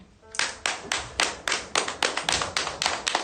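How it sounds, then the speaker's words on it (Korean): A small audience at a literary concert in Hamyang claps in unison, about a dozen sharp, evenly spaced claps close by with no talking. "알아서 박수도 잘 치시고"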